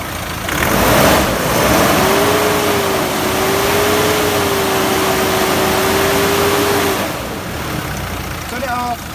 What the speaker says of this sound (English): Kyle, nice hard rev please